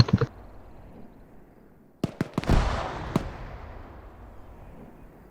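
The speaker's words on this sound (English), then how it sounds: "There's just some good grenades by Tahuski." Grenade explosions in an Arma 3 battle: a few sharp cracks, then a loud booming blast that rolls and fades, followed by another crack and a decaying tail.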